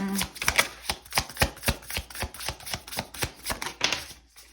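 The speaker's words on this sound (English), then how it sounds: "I feel like my cards are really hard to shuffle." Tarot cards being shuffled by hand, heard up close as a quick run of sharp, evenly spaced riffling snaps that repeat for several seconds with no voices.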